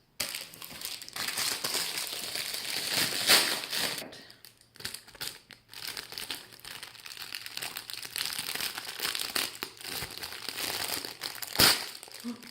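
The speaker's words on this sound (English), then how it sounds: "Before I rip the bag completely in half" A resealable plastic bag crinkles loudly and steadily up close as it is handled and opened, with a brief pause partway through and a sharp rustle near the end.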